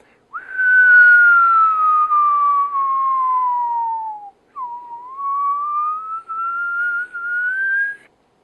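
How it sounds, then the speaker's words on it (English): A long whistled tone glides slowly downward, breaks briefly, then rises again in a steady sustained line, loud and close with no talking. The pitch is smooth, with no distinct note changes. "Then you move into your trill, which would be in relation to the whistle"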